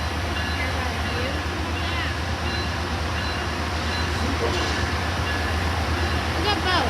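Trains at an Amtrak station while waiting for the Coast Starlight, including a fast-moving Metrolink commuter train: a steady, loud rumble of rail traffic with rolling low-end noise throughout, and people talking over it.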